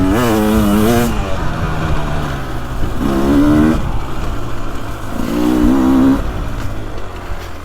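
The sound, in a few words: Beta 300 Race Edition two-stroke dirt bike engine revving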